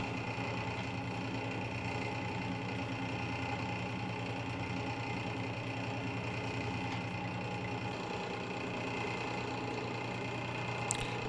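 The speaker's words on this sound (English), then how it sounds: "sanding it down to 1200" A cedar bowl spins on a wood lathe during fine sanding up to 1200 grit, giving a steady, even motor hum with a constant whirring drone that holds unchanged from start to finish, no talking.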